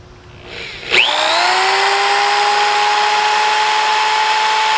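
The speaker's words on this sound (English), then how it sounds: "let me just drill one hole here real quick and show you" A power drill spins up sharply and whines at a steady high pitch as it bores a pilot hole through plastic for a downspout garden, loud and alone.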